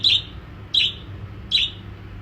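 Small birds let out of their cage into a home yard, giving three short, bright chirps at regular intervals close by over a low hum.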